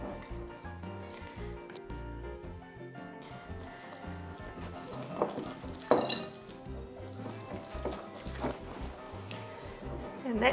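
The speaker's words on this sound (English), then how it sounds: "Now I'm going to add the wet to the dry. And give it a good whisk together." Wet and dry chocolate cupcake batter is whisked together in a bowl, giving soft rhythmic scraping and clinking against the bowl. The whisking sounds close and moderately quiet and continues steadily throughout.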